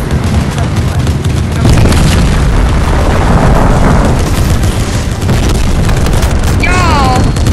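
Fortnite gameplay erupts in loud, continuous booming explosions and gunfire, dense and close, with a voice talking over the battle noise.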